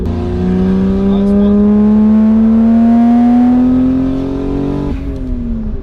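Lexus car with a 1JZ engine that is smoking and reluctant at full throttle, revving hard in one long rising pull, loud and close, before easing off near the end.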